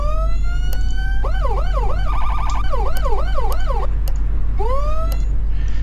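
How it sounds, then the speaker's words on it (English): A police siren in the video game Flashing Lights cycles through several patterns (long wail, fast yelp and rapid warble) with a short horn blast, loud and steady against a constant low rumble. "that's the regular siren you get."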